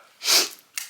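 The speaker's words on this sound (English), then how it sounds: "I gotta sneeze. Hold on, my allergies" A single close allergy sneeze bursts out sharply, followed by a quick sniff.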